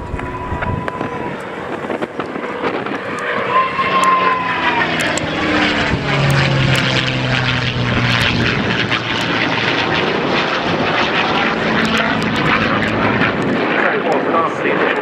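A P-51D Mustang's Packard Merlin engine drones loudly and steadily as the plane passes in an airshow display, with a rising and falling pitch and wind rumble throughout.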